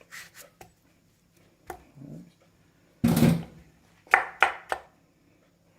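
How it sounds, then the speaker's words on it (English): A knife chops melody melon on a board in a few sharp, irregular knocks, with a cluster of quick cuts near the end, close and dry with quiet gaps between. "And I'm going to chop it."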